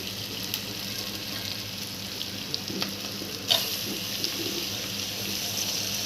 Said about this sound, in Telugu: సో దీంట్లోకి మటన్ వేసేస్తున్నాను